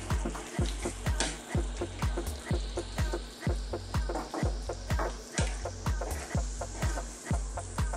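Arroz valenciana with paprika being stirred in a pan, a spoon scraping and knocking in a steady repeating rhythm of close, regular strokes over a soft background sizzle.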